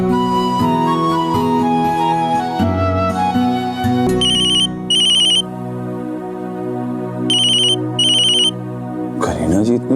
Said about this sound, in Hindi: करीना जी इतनी सुबह सुबह फोन कर रही, क्या बात हो सकती है?